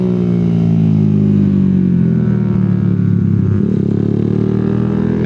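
Motorcycle on a track day, its exhaust droning loud and steady with a continuous rev that rises and falls slightly, up close throughout with no voices.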